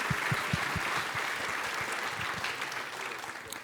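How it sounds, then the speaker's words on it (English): An audience at the Flink Forward Berlin 2024 tech conference claps in a dense, steady round of applause. The clapping stays fairly distant and even throughout, with no speech over it. "And I think we should give those guys another round of applause, please."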